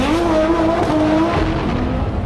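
An Audi race car engine at high revs, loud and close, a steady sustained roar with a rising-and-falling tonal whine throughout, no one talking.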